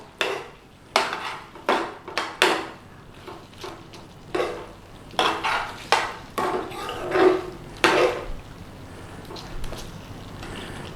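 Spoon scraping and clinking against a pan while stirring Madras spice paste with a pinch of coriander, in a series of short knocks and scrapes, close and fairly clear, with no talking.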